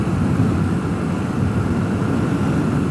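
Radio control airplanes flying at an RC flying field called Baxter Field by a lake, a steady continuous engine drone held at even loudness throughout, with no voices.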